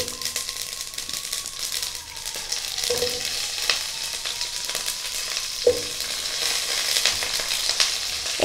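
Mustard seeds crackle and pop in hot oil while cauliflower pieces sizzle in a pan, a steady busy frying sound with occasional stirring clinks.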